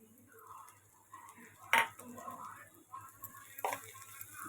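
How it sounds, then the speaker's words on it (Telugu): A spoon scrapes and clinks against a pan while spicy powder is stirred into frying ivy gourd (dondakaya), with a few sharp metallic knocks among soft scraping under a faint background hum. "అది వేసుకొని బాగా కలుపుకోండి."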